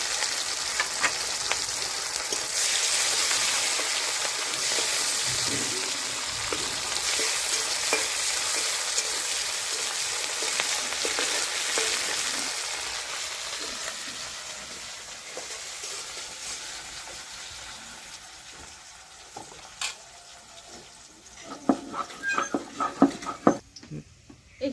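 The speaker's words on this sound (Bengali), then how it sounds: "ফোড়নে দিয়ে দিচ্ছি কুচানো পেঁয়াজ," Chopped onion and garlic sizzling in hot oil for a duck egg curry, a steady broad frying hiss that slowly fades, with stirring clatter and a few sharp utensil knocks near the end.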